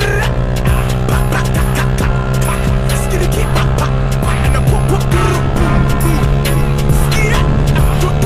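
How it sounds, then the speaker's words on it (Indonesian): A Honda Vario 150cc scooter on worm-pattern tyres runs at full throttle, a loud steady engine drone with constant wind rush and no break throughout. "sekarang gue mau ngetes kan dan coba gue gaspol nih motor bisa nyampe berapa km"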